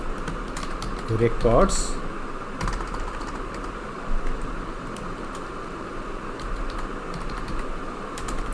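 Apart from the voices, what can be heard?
typing on a computer keyboard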